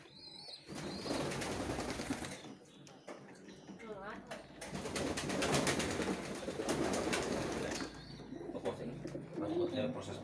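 Homing pigeons and racing pigeons cooing during pairing, soft repeated coos with occasional wing flaps, close by under steady speech.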